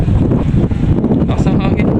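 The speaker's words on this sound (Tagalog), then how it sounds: "Lakas ng hangin" Strong wind batters the microphone in loud, constant low-frequency buffeting, with a voice partly audible beneath the gusts.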